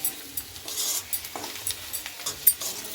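Restaurant-style french fries sizzle in a pan on a gas stove while a utensil stirs them, producing soft irregular scrapes and clinks over a steady close hiss, without talking.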